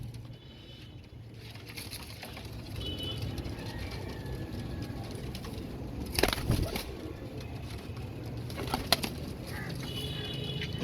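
Kamangar, Kasoori or Dub Walay pigeons cooing softly in a steady low drone, with a brief flutter of wings and a few clicks and knocks over background noise.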